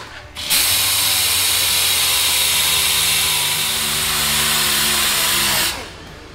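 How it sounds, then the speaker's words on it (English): DA sander with 80-grit paper scuffing trim on a Mercury Grand Marquis, a loud steady high-pitched whir that spins up abruptly, holds for about five seconds, then cuts off. "we're just gonna use the DA with some 80 grit, and we're gonna scuff that up"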